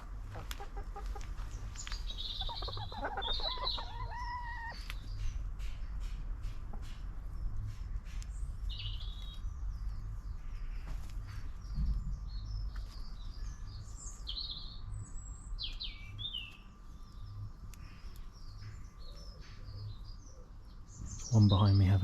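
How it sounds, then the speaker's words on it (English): Chickens in a backyard run cluck and chirp intermittently over a steady low outdoor hum, with short bursts of calls near and farther off and a thump at the end. "We'll watch the chickens for a little while and see what they do."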